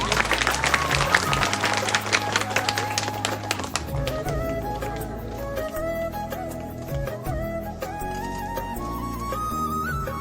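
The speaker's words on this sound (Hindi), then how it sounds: "ताली ताली जा रही" Audience clapping at a government high school annual prize ceremony, a dense burst of applause that thins to scattered claps under music and a crowd murmur.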